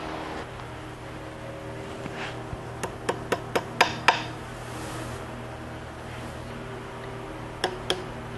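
A hammer taps a pin into the fence of an Oliver 80 table saw during restoration, a quick series of about seven sharp metallic knocks, then two more after a pause, close and clear over a low hum.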